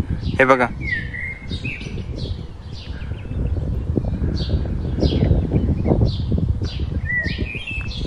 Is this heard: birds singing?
yes